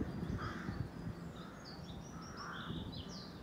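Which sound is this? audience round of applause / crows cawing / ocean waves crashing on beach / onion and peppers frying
crows cawing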